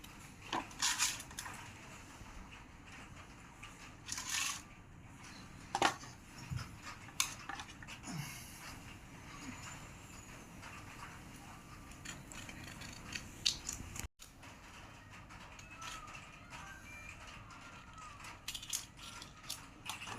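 Green chillies being slit lengthwise with a knife for mirchi bajji, a series of close, irregular crisp cutting clicks and taps with short pauses between.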